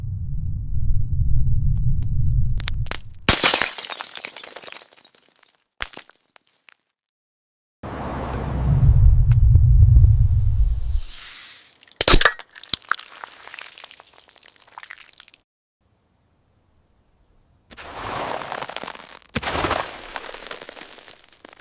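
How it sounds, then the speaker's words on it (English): AI-generated ASMR sounds of a glass ball and soda cans being crushed come in separate bursts: low rumbling stretches, sharp cracks and crunches, and brittle crackling, with silent gaps between them. "The first one is about crushing a glass ball. The second one is about crushing some soda cans."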